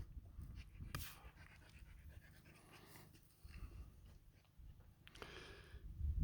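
A dog pants in quick, steady breaths close by, with rustling movement and a couple of sharper noises mixed in.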